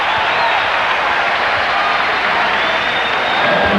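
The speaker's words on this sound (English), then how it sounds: "Listen to the crowd. They're in it already." A basketball arena crowd roars and cheers continuously, a loud dense wash of voices filling the whole stretch without a break.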